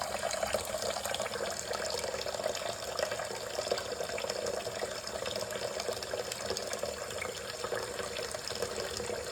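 Water pours steadily from a tap into a plumbing fixture during a leak check, a continuous close rushing splash with no pauses.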